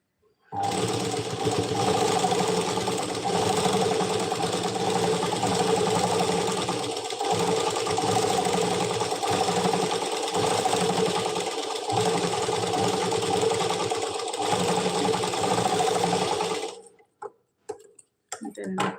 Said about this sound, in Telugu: నేనైతే ఊరికే కుట్టేస్తా ఇట్లా ఎస్ షేప్లో అయితే కుట్టుకోవాలి